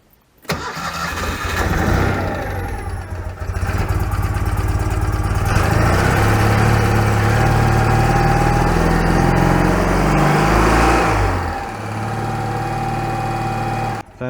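Citroen 2CV engine starting and running steadily after an oil service, a loud, continuous near mechanical drone with a slightly uneven, cold-engine idle that dips briefly toward the end.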